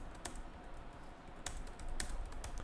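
Code being typed on a computer keyboard while writing a Java print statement, a quiet run of key clicks with a few sharper presses over a low background hum.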